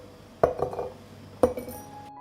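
Clean washed glass jars clink twice, sharply and up close, as a few peppercorns are dropped into each, with short ringing decays and quiet between the hits.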